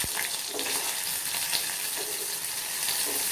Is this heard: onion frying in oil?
yes